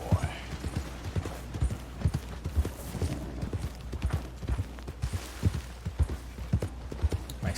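Horse hooves in the video game Red Dead clop along in a steady walking rhythm, each hit sharp and distinct over a low background hum.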